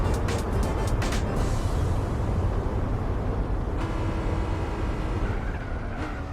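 An old TVR race car in Gran Turismo 4, its engine giving a steady, loud, continuous drone with little change in pitch throughout.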